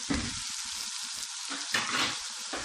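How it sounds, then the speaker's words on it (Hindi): Tomatoes and whole slit green chillies hit a hot pan and fry with a steady, loud, close sizzle, with a few stirring scrapes throughout. "अब इसमें टमाटर डालते हैं, साथ ही सब्ज़ मिर्चें डालेंगे।"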